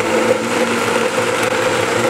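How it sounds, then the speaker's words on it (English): A blender whirs steadily at high speed, blending sweet potato pancake batter with stevia, a loud, continuous motor drone with no pauses. "we're gonna blend this bad boy up"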